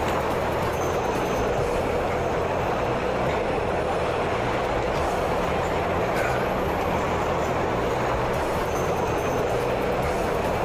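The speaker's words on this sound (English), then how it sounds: "It's a long ass train." A long train rumbles past in the video game Duke Nukem: Manhattan Project, a loud continuous roar of wheels and cars with faint metallic squeals, unbroken for the whole stretch.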